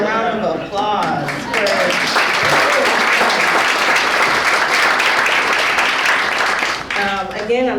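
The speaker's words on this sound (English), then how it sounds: "Give yourselves a round of applause." Applause from a conference audience, a dense, loud wash of clapping from many people filling most of the stretch, with a voice speaking at the start and again as it fades.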